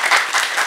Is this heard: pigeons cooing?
no